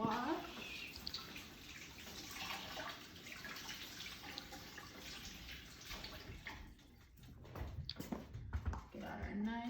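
Zucchini being rinsed under a running kitchen tap, water splashing steadily for several seconds, near and fairly loud, with a few clatters toward the end.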